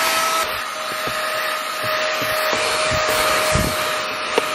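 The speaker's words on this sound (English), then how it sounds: "just to have a tiny little handheld vacuum" Small handheld vacuum cleaner, bought for cleaning a car, running with a steady whirring motor drone and a faint whine, close and continuous, with a few soft knocks as it is moved around.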